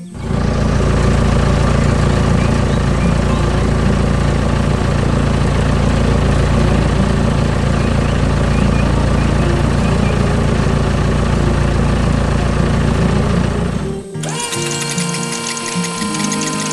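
A green construction machine labors on brown soil, its heavy diesel engine droning loud and steady with a deep low rumble, then cutting off abruptly near the end.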